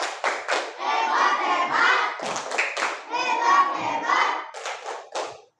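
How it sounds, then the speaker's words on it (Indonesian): Schoolchildren in a classroom clap their hands in rhythmic, patterned bursts separated by brief pauses, fairly close and lively, with faint young voices mixed in. "kasih tepuk hebat"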